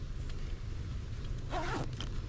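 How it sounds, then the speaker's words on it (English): Quick zipper pull closing a kid's emergency kit bag, one brief rasping stroke over faint background rustle. "Zipper up"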